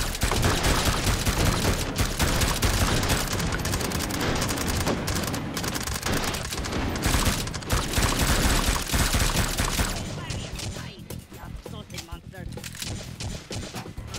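Sustained gunfire in the VR shooter Hot Dogs, Horseshoes & Hand Grenades, a dense, loud barrage of rapid shots that runs almost continuously before thinning into sparser pops, with a voice talking over it.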